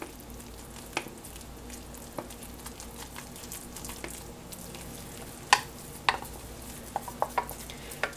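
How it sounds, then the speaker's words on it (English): Choux pastry dough being stirred together in a pan until it forms a lump, with a low steady sizzle underneath and occasional sharper scrapes and knocks of the spoon against the pan, fairly close and without talk. "you want to quick stir this together until it forms a nice dough lump"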